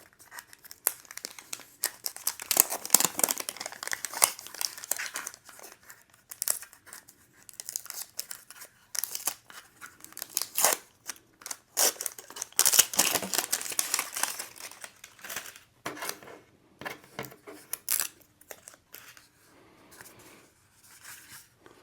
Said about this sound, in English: So let's unwrap this.